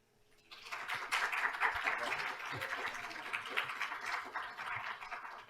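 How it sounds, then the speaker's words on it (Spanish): Applause from an audience in an auditorium, a dense steady wash of clapping that starts about half a second in and carries through to the end, moderately loud and without clear speech. "Y pues les damos un aplauso."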